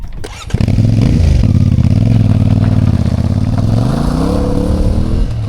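A motorbike ridden along a Moroccan road near the Dadès Gorges and Todra River, its engine droning loud and steady up close after a brief rev at the start, with wind noise and no voices.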